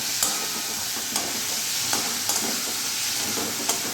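Mutton liver masala fries in hot oil under a constant sizzling hiss while a spoon stirs it, scraping the pan in occasional sharp knocks.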